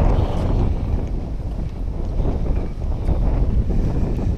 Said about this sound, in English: That wind is gassing.